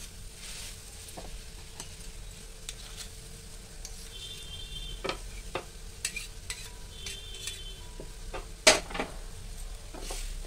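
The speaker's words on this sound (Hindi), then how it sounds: "दाल को अच्छे से भून लिया है और ये गुलाबी हो गई है" Urad dal is stirred and roasted in a pan over high flame, giving a soft, continuous dry scraping and light sizzle punctuated by occasional utensil taps against the metal.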